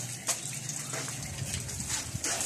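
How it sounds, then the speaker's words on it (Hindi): Rain coming down again outdoors, a steady wash of falling water with a few louder splashy bursts, close and continuous, with no voices. "थोड़ी है बारिश अभी"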